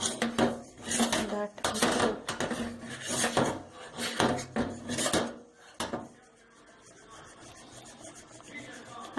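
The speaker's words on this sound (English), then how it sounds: "turn it like this. That it should dust all over the pan." Rhythmic rubbing and rasping as a floured cake pan for a fruit cake is turned and tapped, several close scraping bursts, then quieter fading rustle.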